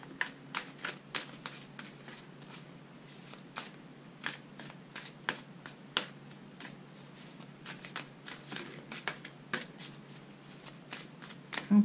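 A deck of oracle cards is shuffled by hand, a quiet series of quick riffling and flicking bursts repeating in an uneven rhythm, with no talking.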